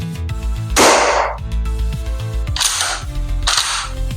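A gas-powered Golden Eagle 870 gel blaster shotgun (8876) gives three sharp, loud mechanical bursts, one near the start and two close together later, over a steady low background hum.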